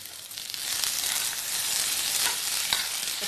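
Potato masala filling for dosa sizzles and fries in a hot pan while it is stirred, giving a dense, steady hiss with a few soft scraping strokes and no talking.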